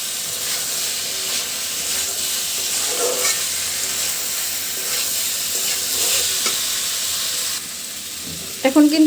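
Okra fries in oil while being stirred continuously, a steady sizzle with scraping stirs, a few clattering utensil knocks near the end, and no one speaking.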